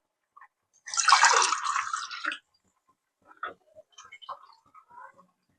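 Water poured into a pot of chicken curry makes a brief splashing gush lasting about a second and a half, followed by a few faint drips and small liquid taps.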